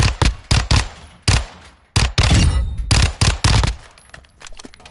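A Phoenix SMG fires in Call of Duty MW2 multiplayer, sharp close bursts of rapid shots in several clusters, with some scattered fainter shots trailing off at the end.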